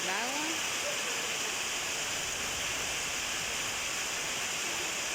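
Heavy rain pours steadily onto a flooded street, a dense continuous hiss with some faint speech mixed in beneath.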